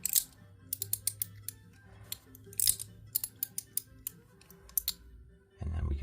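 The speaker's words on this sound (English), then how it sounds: "6 clicks instead of 5." Small mechanical clicks from adjusting a Mackie CP series mechanism come in quick irregular bursts of sharp ticks, close and fairly quiet, ending in a brief low rumble of handling.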